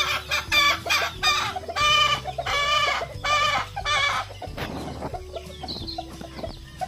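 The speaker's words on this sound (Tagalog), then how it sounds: "Yung mga manok natin" Chickens cluck loudly and close by in a rapid, repeated series of calls. After the clucking, quieter rustling and scattered farmyard sounds follow.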